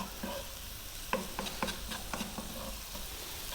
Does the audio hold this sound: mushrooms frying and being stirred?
yes